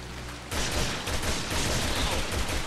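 Rapid gunshots from the Resident Evil 6 video game, a sudden onset of dense, continuous firing that stays loud and close for a couple of seconds with no talk over it.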